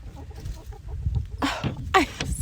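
Hens clucking close by in a coop, a few soft low clucks followed by two louder, drawn-out squawking calls near the end.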